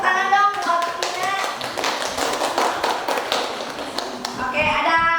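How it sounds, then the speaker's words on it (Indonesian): Students in a classroom clap for a classmate during a history lesson, a brief burst of hand claps and taps with some voices and children's speech mixed in, fairly close and moderately loud. "tepuk tangan dong buat Tina."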